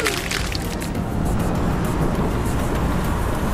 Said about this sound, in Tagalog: sa mabilis ang daloy ng pagmamaneho ng mga sasakyan